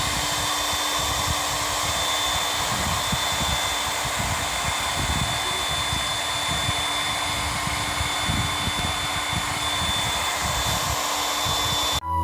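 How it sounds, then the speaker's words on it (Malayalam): A heat gun blows hot air over vinyl wrap on a speaker box to push out trapped air bubbles, a loud continuous whooshing drone with a steady motor hum and fine buzzy overtones, running unbroken until it cuts off at the end. "അപ്പോൾ അത് നമ്മൾ ഹീറ്റ് ചെയ്ത് അകത്തുള്ള എയർ ബബിൾസ് കളയുന്ന ഒരു പ്രോസസ്സാണ് ഈ കണ്ടുകൊണ്ടിരിക്കുന്നത്"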